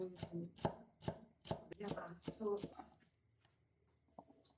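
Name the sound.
knife chopping spring onion finely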